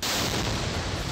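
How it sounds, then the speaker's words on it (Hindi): A booby-trapped flag pole explodes at the Israel–Palestine border, a loud, continuous roar of blast noise filling the whole moment with no voices over it. "जैसे ही वो फ्लैग पोल को जमीन पर रखता है एक जोरदार धमाका होता है"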